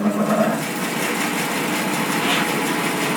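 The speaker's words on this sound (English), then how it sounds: "I've got a nice quiet bandsaw, the bearings are spot on." A BS350 bandsaw with newly fitted bearings runs at a steady, smooth whine, close and fairly loud, holding an even tone without cutting or speech.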